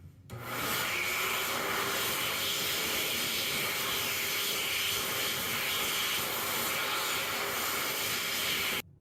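A hand dryer with a 0.8 nozzle runs in an Aldi restroom, a loud, steady, slightly high-pitched roar of blowing air that holds for about eight seconds and then cuts off.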